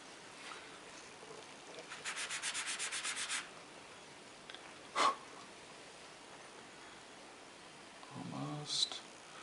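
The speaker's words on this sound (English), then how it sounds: "Just a little bit more sanding." Sandpaper rubs against a metal clay hinge in short, rhythmic back-and-forth strokes, a quiet scratchy burst of repeated passes followed by faint handling noises and a small tap nearby.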